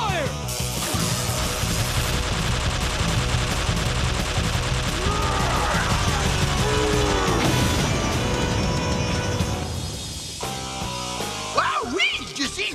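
A Power Rangers zord weapon fires on a monster in a loud sustained barrage of blasts and explosions. Whooshing and swooping effects rise through the middle, then it drops to a quieter tail with scattered hits.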